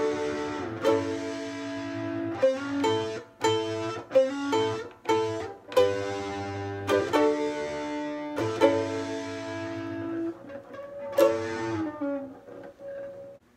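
An electric ukulele with metal distortion plays loud, heavily overdriven chords and riffs in a steady rhythm, with no voices.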